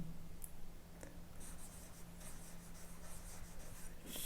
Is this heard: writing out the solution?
yes